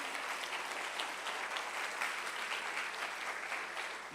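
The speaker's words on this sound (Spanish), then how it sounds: "Dale un fuerte aplauso al Señor Jesús." A church congregation applauds during a Spanish-language sermon, giving a sustained wash of clapping that holds steady for about four seconds before tapering slightly, with no voices over it.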